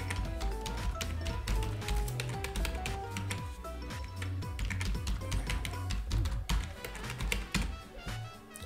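Fast, steady clicking of keys on a computer keyboard as a password is entered, close and continuous, with background music running underneath.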